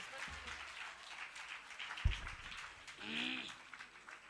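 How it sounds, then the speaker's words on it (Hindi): Faint, distant clapping from a crowd at a live Shrimad Bhagwat Katha religious discourse in Agra, a steady patter of hands with a couple of brief voice fragments and a low thump. "तालियां बजाते रहिए, तालियों की सेवा देते रहो।"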